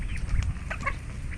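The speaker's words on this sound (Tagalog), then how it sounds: "Ayan yung itik natin" Ducks on a small farm give short quacking calls over a low background rumble, a few brief bursts scattered through the moment.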